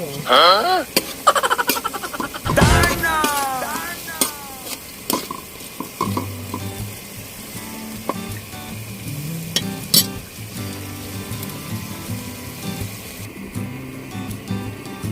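Pork cubes fry and sizzle in a pan for adobong pork with sitaw, with steady crackling and occasional stirring scrapes, broken by clattering and a loud clank near the start.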